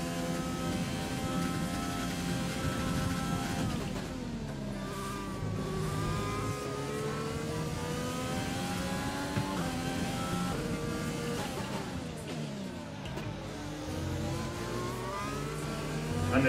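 An F1 2020 race car engine, Williams or McLaren at the British Grand Prix, howls at high revs throughout, its pitch climbing and dropping with shifts in a loud, continuous run.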